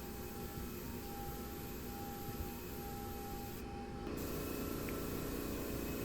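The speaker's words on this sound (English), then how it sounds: "I'm spraying at an upward angle just so I get the entire trim" A steady, hissing spray of wood stain onto wooden trim runs continuously at close range, with a faint tonal whine underneath that drops away near the end.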